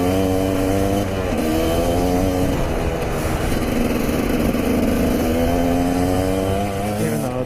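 A KTM motorcycle on a beach runs a quick lap, its engine droning and revving through shifting pitches, rising and falling as the throttle changes, fairly close and alone without talk.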